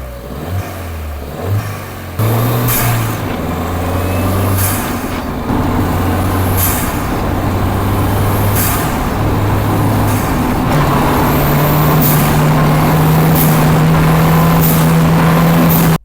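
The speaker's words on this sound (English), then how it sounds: "I've actually stuck a microphone under the bonnet so you can take a listen to what the turbo sounds like." Engine bay of a Ford Fiesta ST heard from a microphone under the bonnet, loud turbo whoosh and engine drone rising through the gears, with repeated sharp blow-off and wastegate chuffs between shifts.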